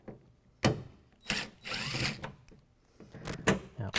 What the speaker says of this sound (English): it's okay to take this out with an impact driver